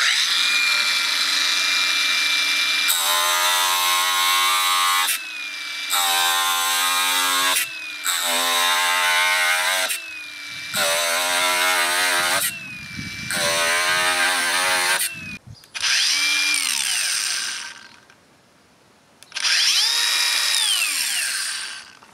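Cordless angle grinder in auto mode, its motor whining up and down in a series of loud bursts separated by short pauses and speed changes, close up, with no voices.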